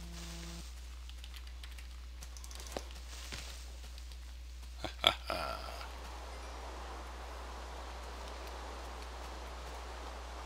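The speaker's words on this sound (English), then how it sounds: "if it's gonna rain on me" Video game rain in BarBaria sets in about halfway through as a soft, steady hiss, preceded by a few faint clicks and taps; quiet throughout with no talking.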